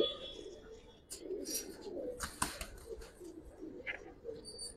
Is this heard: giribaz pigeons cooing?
yes